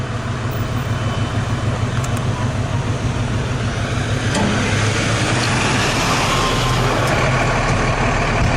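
A heavy ambulance engine rumbles close by, steady and loud, as it pulls out of a fire station on a call, with a faint high tone over the drone.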